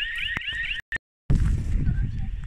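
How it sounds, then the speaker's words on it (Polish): A motion sensor at an indoor swimming pool sets off an alarm: a loud, shrill, warbling electronic siren cuts out abruptly, then gives way to a heavy, rumbling wash of noise. "Włączył się alarm."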